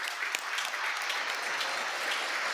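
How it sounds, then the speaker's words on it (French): Audience applause at a conference talk, a sustained, fairly distant patter of many hands clapping at an even level. "Oui, applaudissements."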